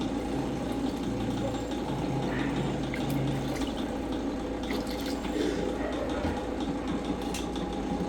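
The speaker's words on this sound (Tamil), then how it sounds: "தண்ணி சேர்த்தாச்சு." Water pours steadily into a pot of fish curry with a continuous rushing, splashing sound, close by and without speech.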